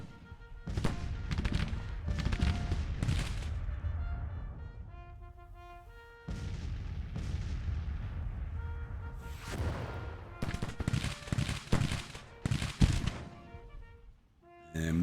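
Musket volleys fired at a detachment in a Civil War battle from Grand Tactician: The Civil War, sharp crackling bursts of gunfire coming in irregular clusters, some close and loud, others thinner, with quiet stretches between them.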